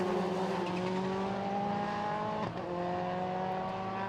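A rallycross car, racing at Lydden Hill in the British Rallycross Championship, is driven hard through a hairpin, its engine revving high and steady with a brief dip and recovery midway, loud and continuous with no talk.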